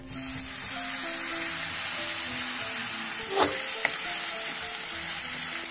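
Onions lightly browned in a pan sizzle steadily, with a brief louder hiss and splutter as a little water goes in during cooking of a giant prawn curry, no talking.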